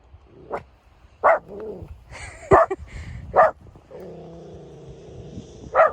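A dog barks sharply at geese several times at irregular intervals, close and loud, with a whining, vocal tone between some barks.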